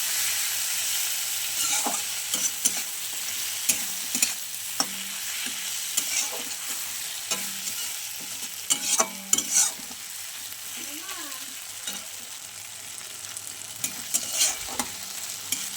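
Small puti fish (pool barb) fry with onion and tomato, sizzling in a hot pan, with frequent scraping and clinking as a spatula turns the pieces at an irregular pace.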